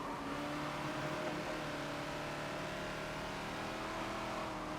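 A Ferrari 250 LM racing car in the Forza video game, its engine holding a steady, loud, dense drone with no break or gap.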